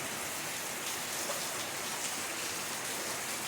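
Heavy morning rain pours down in a dense, constant hiss that stays steady and fairly close throughout, with no voices.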